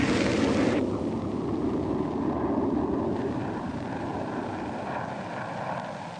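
An A-6 Intruder attack aircraft in Vietnam War footage gives a loud, sustained roar that eases slightly and stays unbroken, with no speech.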